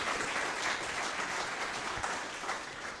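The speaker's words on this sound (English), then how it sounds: "just getting a round of applause" Quiet round of applause from an audience at a football club summer signings talk-in event, steady dense clapping lasting a few seconds, somewhat distant.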